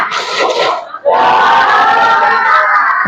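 A classroom of students performs the tepuk semangat clapping chant during an Indonesian science lesson: loud, close group shouting in unison, a brief pause, then a sustained collective chant with rhythmic accents.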